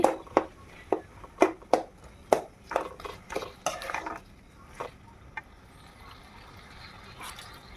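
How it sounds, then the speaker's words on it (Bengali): Amla (Indian gooseberry) pickle is stirred in a pan, a series of sharp spoon clanks against the metal at a steady pace that thins out and fades toward the end, with no talking. "আবারও ভালো করে নেড়ে চেড়ে দিচ্ছি"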